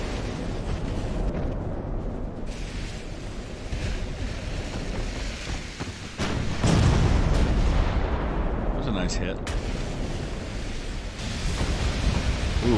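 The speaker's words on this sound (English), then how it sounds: "Big one, ammo detonation." Ammo detonation explosion in the naval video game Ultimate Admiral: Dreadnoughts, set at the Battle of Savo Island in 1942, heard as a loud deep roar that swells sharply around six seconds over a constant rumbling battle backdrop.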